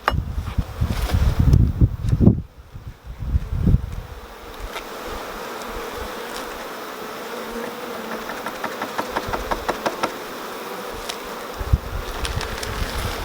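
Honey bees buzz steadily around an open colony, a dense close drone with some rustling and handling noises early on, no talk.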